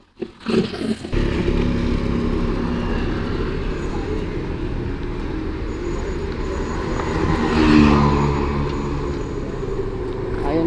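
A newly acquired sportsbike's engine runs steadily throughout, a loud continuous motor drone with a brief revving burst at the start and a swelling pass near the middle, with no talking over it.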